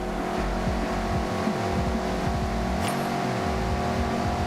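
Mazda MX-5 race car in Forza Horizon 6, its engine droning steadily with repeated revs rising and falling as it slides through corners, loud and continuous.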